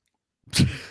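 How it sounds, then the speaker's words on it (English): A person sneezes once during a podcast recording, a single sharp burst that rises suddenly and trails off, loud and close to the microphone. "I guess he has another sneeze."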